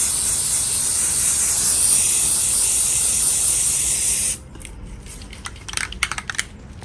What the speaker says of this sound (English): I'm going to spray paint this one black.